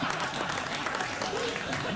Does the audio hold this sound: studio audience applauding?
yes